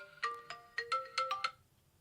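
An incoming call on a phone sounds a bright melodic ringtone of about six quick chiming notes in an uneven rhythm, close and clear, then fades out, with no voices.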